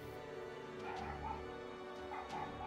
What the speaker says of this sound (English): No, that's the distant sound of the bears fighting